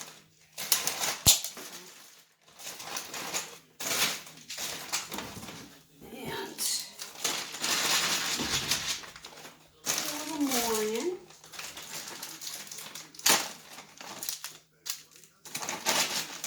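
Halloween candy is taken out and bagged, with intermittent crinkling wrapper rustles, plastic bag handling and light clicks and taps, close by and mixed in with a person talking.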